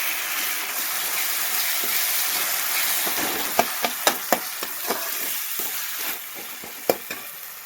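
Tomatoes sizzle and fry over cooked onions in a hot pan, a steady close crackle broken by sharp stirring clicks and scrapes in the second half, with no talking.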